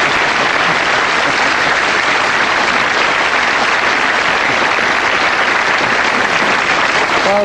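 Sustained, dense audience applause for a guest on a TV show, loud and steady throughout with no voices over it.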